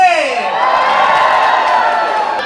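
Wedding guests at a Cantonese wedding celebration cheer and whoop together, a dense sustained crowd roar opening with a rising shout and holding steady for a couple of seconds.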